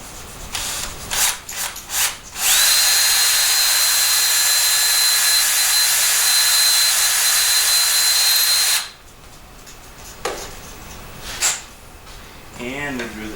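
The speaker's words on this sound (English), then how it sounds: "And we drill the same hole in here." A power drill whines at full speed for about six seconds, preceded and followed by brief handling clatter and scraping.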